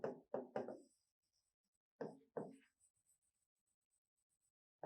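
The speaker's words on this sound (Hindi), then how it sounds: "तो लिख देते हैं" During a math class, a teacher writes an equation on a board in a few short bursts of quick chalk tapping and scratching, with quiet gaps between the strokes.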